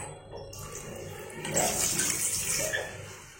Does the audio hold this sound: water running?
yes